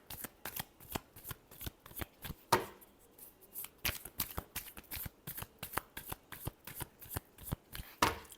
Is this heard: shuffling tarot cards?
yes